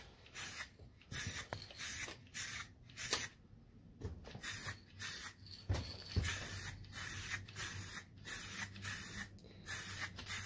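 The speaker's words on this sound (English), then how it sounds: "we'll spray it in exactly the same way as we sprayed the sanding sealer" Repeated short hissing bursts of an aerosol spray can applying finish to a wooden bowl, close up, in quick pulses with brief gaps, no talking.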